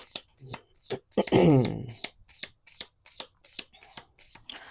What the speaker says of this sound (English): So I'll just pull a few cards for affirmations.